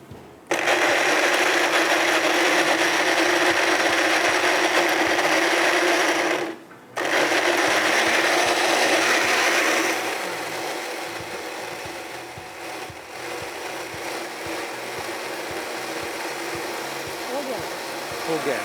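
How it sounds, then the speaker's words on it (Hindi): A kitchen blender on a cooking show whirs loudly as it purees ingredients into a paste. The motor drones steadily, cuts out briefly, restarts and then runs on at a lower, settled pitch. "इसको ब्लेंड करके पेस्ट बना के और फिर हम दोबारा से चूल्हे पे रखेंगे"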